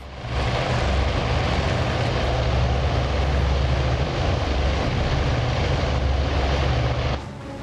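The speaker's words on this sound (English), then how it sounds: "Let's get these aircraft in the air." Aircraft engines in the naval combat game Task Force Admiral roar loudly and steadily as planes take off, a dense propeller drone that holds for about seven seconds and then drops away abruptly near the end.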